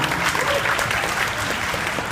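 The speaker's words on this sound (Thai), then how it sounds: "ครับผมขอสิ่งปรบมือให้กับคุณสเตปอภิวัตด้วยมากครับ" Audience applause at a Thai press launch event for Quick Sap instant noodles, steady clapping filling the whole moment with a faint voice or two underneath.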